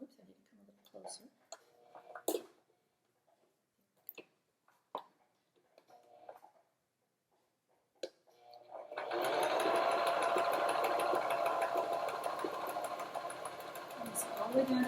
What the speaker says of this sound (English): So this one we're just going to sew all the way down.